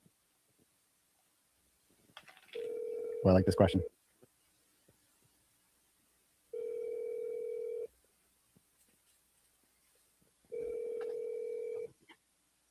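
Telephone ringback tones on a call to a pizza shop, just before its voicemail answers: three steady, evenly spaced rings of about a second and a half each, with a short burst of talk over the first.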